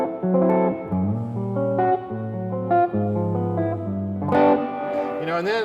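Electric guitar played through a Mack tube amp with a tubby, jazzy 1940s–50s Les Paul style tone and slight grit, ringing chords and single notes in a short phrase with reverb-like sustain.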